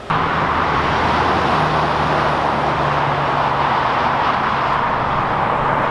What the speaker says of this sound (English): very loud here, lots of traffic.